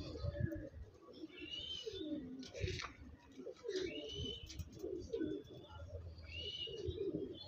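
Andhra pigeons cooing close by, soft repeated throaty coos overlapping one another with occasional light chirps, a low continuous murmur of several birds throughout, no clear speech.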